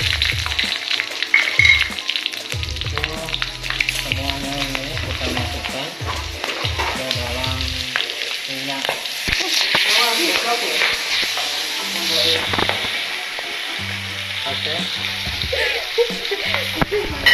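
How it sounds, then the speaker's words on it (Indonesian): Red chilies fry in oil in a pan for sambal bajak, with a loud, continuous sizzle and hiss and repeated stirring scrapes, while a voice speaks over the frying. "Kita goreng."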